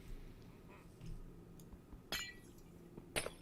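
Glass windows shattering in a Minecraft-style game, two sharp bright crashes near 2.1 and 3.2 seconds over a quiet, low ambient background.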